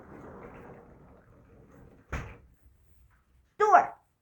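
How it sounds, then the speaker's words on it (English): A door in an apartment in Jeonnam, Korea, thumps once as it opens or shuts, close and sharp, with a voice talking before it and another brief knock afterward. "door."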